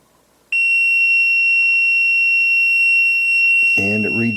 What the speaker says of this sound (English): we'll also test the continuity across the motor just to make sure that we don't have a dead short